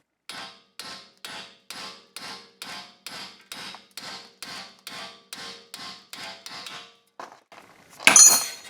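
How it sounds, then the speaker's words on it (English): Metal hammer blows strike the suspension housing of a 2009 Audi S5 V8, about fifteen sharp, evenly spaced hits up close, followed by a brief scrape and a louder clatter at the end. "Now I'm gonna give it a couple good hits on this housing here"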